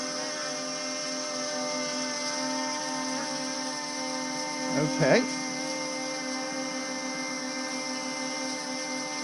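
An OMPHobby ZMO VTOL RC plane hovers nearby with a steady high electric motor whine and layered propeller tones, while a short spoken word briefly cuts in midway.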